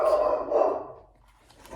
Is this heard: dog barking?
yes